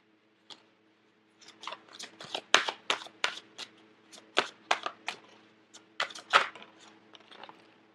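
Tarot advice cards being shuffled by hand, a quick run of crisp riffling snaps and soft slaps, close and fairly quiet, coming in short irregular bursts after a brief pause.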